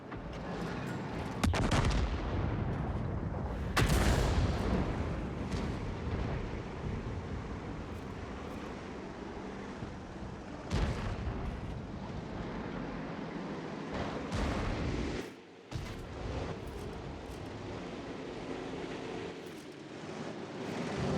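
Self-propelled artillery in World of Tanks Frontline mode fires and lands shells, several heavy booms standing out over a constant low battlefield rumble of engines and distant fire.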